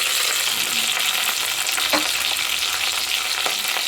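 Onions, green chillies and curry leaves frying in a pan for a ridge gourd and chana dal curry, a loud steady sizzle with a few scraping stir strokes, close up and without talk.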